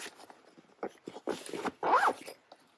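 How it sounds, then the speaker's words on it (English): A zipper closing on an art supply bag in a few quick, close rasping pulls, with the longest and loudest pull near the end. "And then zip it up"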